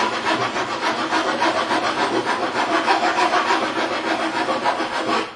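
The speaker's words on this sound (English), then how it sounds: "and just rasp it a little bit." A rasp files a wooden tenon for a mortise and tenon box joint, making rapid, rhythmic scraping strokes that are close and fairly loud, continuing steadily throughout without speech.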